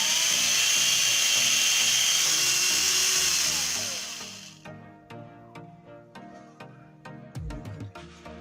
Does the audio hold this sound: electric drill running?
yes